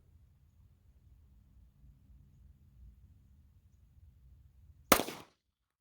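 One sharp, loud gunshot from an S&W SD9VE 9mm pistol firing Winchester Ranger T-series 147 grain ammunition, a single crack after several seconds of low, quiet outdoor rumble.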